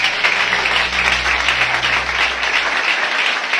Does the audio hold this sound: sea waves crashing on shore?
no